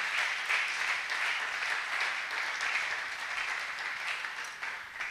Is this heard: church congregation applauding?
yes